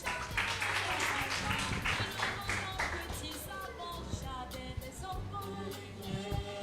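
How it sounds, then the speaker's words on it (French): An audience applauds a team at a children's holiday quiz semi-final, with steady clapping at moderate distance, while a voice speaks over it briefly. "On les applaudit très très fort."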